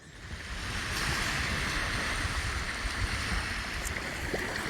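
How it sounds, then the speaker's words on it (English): Ocean waves on the beach heard as a broad, steady wash of surf, moderately loud and continuous, with a breezy hiss and no voices. "that's the ocean over there"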